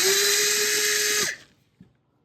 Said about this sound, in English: So go ahead and get all the screws removed.